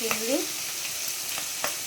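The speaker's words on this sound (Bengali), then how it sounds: "চিংড়িটা একটু ভাজা হোক" Shrimp frying lightly in a pan, a close, steady hiss of hot oil with occasional stirring scrapes and soft pops, no voices over it.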